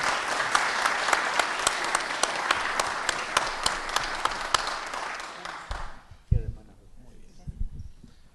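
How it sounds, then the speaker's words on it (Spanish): A lecture-hall audience at a university class applauds two speakers, steady dense clapping for about six seconds that fades out, followed by scattered rustling and a few thumps. "Un aplauso para los dos, por favor"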